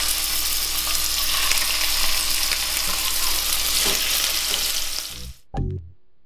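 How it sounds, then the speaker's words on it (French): Saint-Jacques scallops sear in hot oil with a loud, steady, dense sizzle that fills the pan, then cut off abruptly near the end, followed by a brief clatter. "Une fois que l'huile est bien chaude, on va commencer par snacker nos Saint-Jacques d'un côté."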